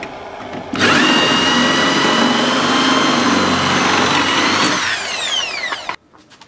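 A power drill bores into the rear panel of a Tesla Model 3 electric car, a loud steady whine that runs for about four seconds, then falls away in a descending pitch before stopping abruptly.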